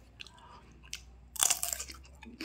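A crisp, close bite into a fresh tomato gives a sharp crunch, then a little quieter chewing follows.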